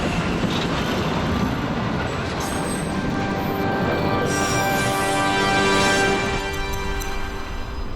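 A freight train rumbles past at the Port of Antwerp, a steady loud roar of rolling wheels with a metallic hum and a faint high squeal, no voices.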